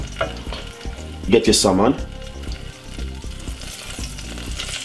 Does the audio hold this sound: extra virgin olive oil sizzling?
yes